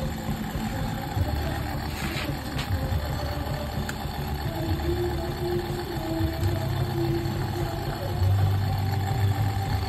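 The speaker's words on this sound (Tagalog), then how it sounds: "So kung mapapansin nyo, umaandar ang motor." A motorcycle engine idles steadily in the background during headlight wiring work, a faint, continuous low rumble with no revving.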